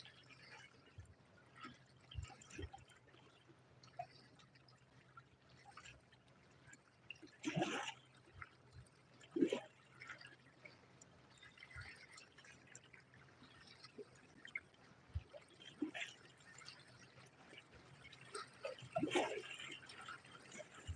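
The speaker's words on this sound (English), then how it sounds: "There's some pretty good waves." Small lake waves lapping and splashing close by during an ice or shore fishing session, a steady low wash with irregular louder slaps, quiet overall and with no talking.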